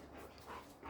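A pet dog, a female nicknamed Dog, whimpers and pants softly outdoors in a brief, faint burst of breathy sound that ends in a sharper yelp-like peak.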